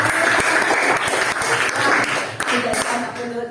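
Children clapping their hands together in a classroom, a loud, rhythmic burst of many small hands, with voices mixed in.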